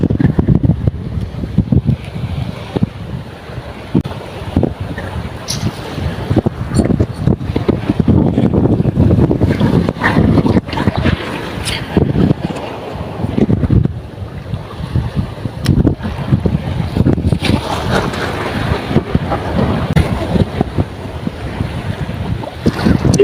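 Strong wind roars and buffets the microphone continuously on a fishing boat, with water sloshing around the boat underneath, no talking.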